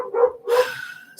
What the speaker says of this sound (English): My other dog's having a fit because the other dog's getting to go for a walk